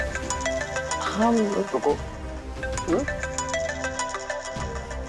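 A phone rings with a repeating electronic tone for an incoming video call, continuing steadily under a voice and other people talking.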